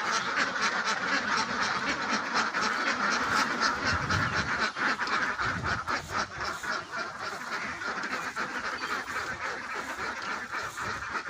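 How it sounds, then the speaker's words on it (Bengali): Ducks at a duck farm beside a fish pond in Bangladesh, a dense flock quacking continuously, overlapping calls and honks at moderate distance. "এবং হাঁসের খামার"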